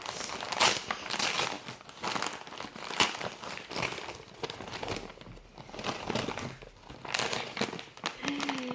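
Paper crinkles and rustles in repeated bursts, close and fairly quiet, as wrapping is handled and pulled apart.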